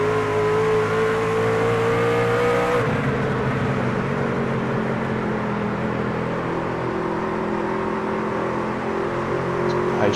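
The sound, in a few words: race truck engine under careful throttle control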